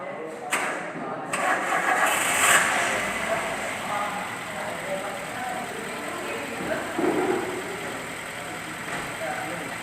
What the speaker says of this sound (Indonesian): Jadi saya hidupkan mesin dan saya nyalakan AC-nya